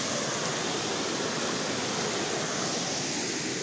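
Hurkalo waterfall on the Velyka river in the Carpathians, a steady broadband roar of falling water, close and continuous with no voices.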